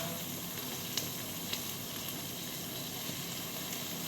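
Garlic frying in a pan while cooking Filipino chicken liver adobo gives a soft, steady sizzle with a few faint clinks, low in level, with no talk.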